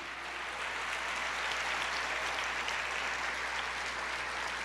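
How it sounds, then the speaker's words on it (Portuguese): A church congregation applauds during a worship service, a continuous, even roar of clapping from many people held at steady volume for several seconds, with a low hum beneath. "Aplauda mais."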